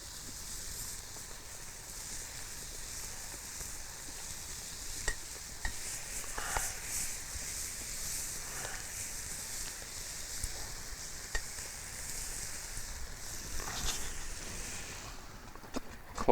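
Grouse sizzle on a charcoal grill, set off to the edges of the fire, giving a faint, continuous hiss and crackle with scattered small pops throughout.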